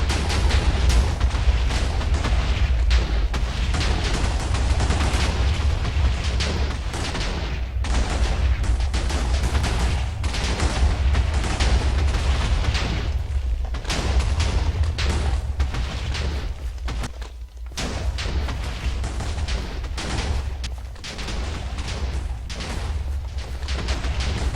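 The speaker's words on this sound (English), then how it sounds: "Constant explosions." A Minecraft game erupts in constant explosions, a dense and unbroken barrage of deep booms and rumbling blasts that overlap one another for the whole stretch, with one brief dip partway through.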